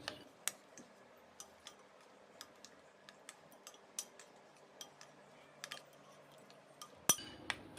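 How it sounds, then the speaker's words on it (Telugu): A spoon stirring home-made chocolate with groundnuts and almonds in a bowl, making sparse, quiet, irregular ticks and clinks against the dish, close by, with no voices. "బాగా మిక్స్ చేయి."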